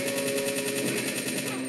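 Sustained automatic machine gun fire in the video game Resident Evil 3 rattles on loud and unbroken, a dense rapid stream of shots that fills the whole moment.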